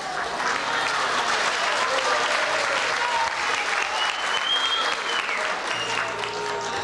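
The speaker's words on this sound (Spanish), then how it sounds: "quiero que aplaudan a los veteranos" An audience applauds veterans at an anniversary music event, continuous full-room clapping at steady loudness from start to finish, with faint voices underneath.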